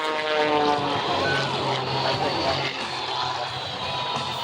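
A propeller airplane roars past at a naval air station during a race against a jet-powered fire truck, a steady loud drone with faint voices in the background.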